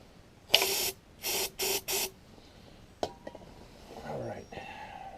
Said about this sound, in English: I'm going to spray some carburetor cleaner down there